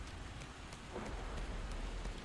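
Steady rain falls in the cozy world of Disney Dreamlight Valley, a soft, even hiss of drops heard faintly on its own.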